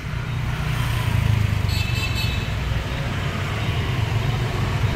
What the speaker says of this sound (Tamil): வண்டி திரும்புது.